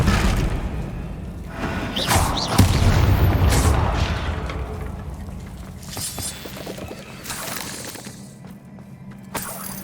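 A Bombarda spell detonates in Hogwarts Legacy as a loud, deep boom with shattering debris, followed by a long rumbling, crackling tail and more crashes.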